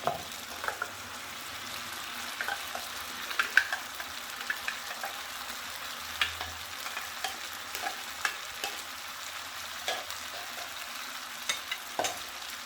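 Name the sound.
black pepper chicken with paste frying and stirred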